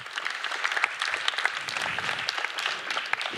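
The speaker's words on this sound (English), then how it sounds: "give them a round of applause" A group of coaches at a physical literacy training session applauds participants, giving brisk, close clapping with distinct individual claps standing out throughout.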